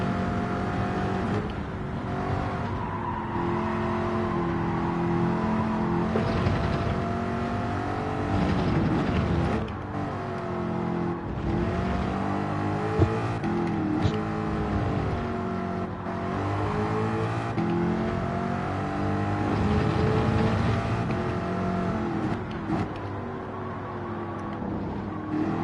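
A Mustang race car engine in a racing video game drones loudly and continuously, rising and falling in pitch as it revs through gear changes, with no talking over it.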